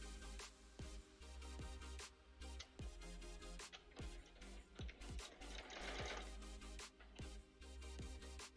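Domestic sewing machine stitching fabric for a Poison Ivy cosplay costume, a steady close mechanical whir broken by short pauses and clicks, with no voices over it.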